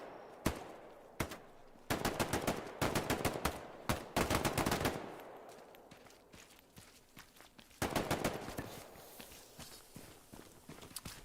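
Machine gun fire in the WWII shooter Hell Let Loose comes as several rapid bursts of sharp, loud shots separated by short pauses, with a few single cracks and quieter background noise between them.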